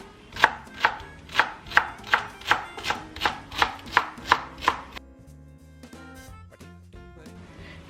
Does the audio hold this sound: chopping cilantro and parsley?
yes